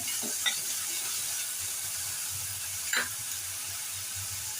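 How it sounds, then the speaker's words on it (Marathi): Soya chunk mince sautéed with salt in a pan over a medium gas flame, a steady low sizzle with a couple of brief stirring scrapes, close and fairly quiet. "मीडियम गॅसवरती परतून घेऊया. थोडं मीठ घालूया, परतून घेऊया."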